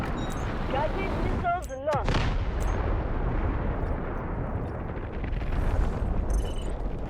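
Artillery barrage explosions in a war video game, with heavy booming blasts rumbling almost continuously and one sharp burst near the start, while voices talk over the din.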